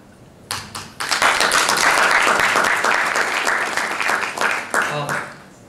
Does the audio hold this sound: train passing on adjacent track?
no